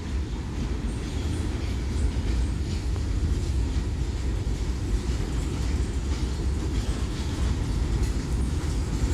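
A CSX freight train rolling past on a track winding through hills and valleys, a steady rumbling roar with continuous wheel clatter that stays loud and near throughout, no voices.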